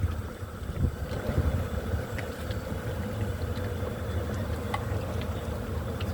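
A fishing boat heading out for a chakara catch runs its twin engines, a steady low rumble that carries on without a break and mixes with wind noise.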